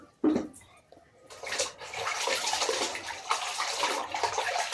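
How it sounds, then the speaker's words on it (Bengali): Water splashes and sloshes as a cotton towel is washed by hand and wrung out, with a sharp splash near the start followed by continuous close dripping and churning water. "চলো গামছাটা ধুয়েই চিপেই নিই"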